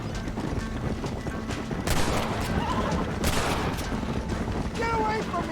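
Gunfire in the video game Red Dead Redemption: several sharp shots burst out amid a rumbling mix, with a horse whinny and background game noise, fairly loud and close.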